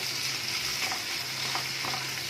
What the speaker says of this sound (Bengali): একটু নাড়াচাড়া করে নিলাম, মিক্স করে দিচ্ছি শেজওয়ানটা।